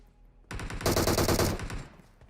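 Gunfire from a gunfight in the mobile battle royale game BGMI: a rapid automatic burst of shots lasting just over a second, fairly close and loud, then quickly fading.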